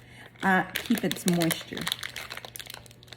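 A plastic storage bag crinkles loudly up close as a piece of craft clay is tucked inside, with sharp crackling bursts at first and then lighter rustling, while someone talks over it.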